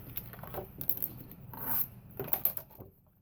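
Cardstock being scored at 4¼ inches for a card base, heard as a few short scraping, rasping strokes close by with small taps between them, with no talking.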